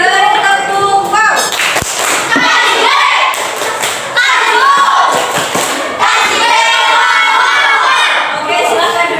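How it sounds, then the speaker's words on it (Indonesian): A secondary school class in Indonesia claps and chants the 'tepuk wow' routine together. The claps are loud and rhythmic and mix with the students' shouted voices in the classroom. "Oke, beri tepuk wow."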